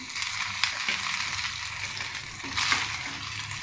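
Chicken pieces dropped into a wok of egg fried rice in hot oil, with a steady broadband sizzle of frying throughout and a few brief stirring clinks, fairly close and continuous with no talk.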